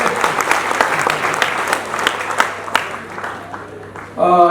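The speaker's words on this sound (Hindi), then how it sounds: "तालियां बजाइए" Audience applause at a national conference, a dense steady burst of many hands clapping that thins out toward the end as a voice comes in.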